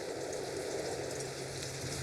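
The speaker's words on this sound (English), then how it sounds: "Well, it's raining outside." Steady rain falls outside, a continuous soft hiss of drops on surfaces that holds an even level from start to finish, with no voices over it.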